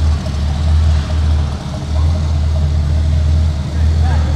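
A custom truck's engine runs steadily with a deep low rumble, close and loud throughout at an outdoor car show setup day.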